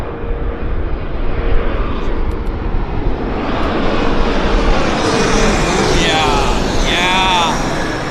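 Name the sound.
CRJ jet aircraft approaching and landing at Vancouver airport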